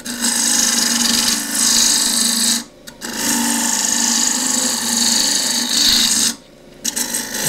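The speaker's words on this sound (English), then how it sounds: "Half inch spindle gouge again." Wood spinning on a lathe while a half-inch spindle gouge cuts a cross-grain box, a loud steady shearing hiss that drops out briefly twice as the tool lifts away, no voices.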